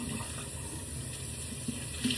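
A cloth stained with eye makeup and blush rinsed under a running faucet, giving a steady, close stream of splashing water with a few small splashes and no talk.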